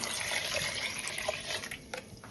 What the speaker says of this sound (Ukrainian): Викладаємо полуницю, заливаємо водою,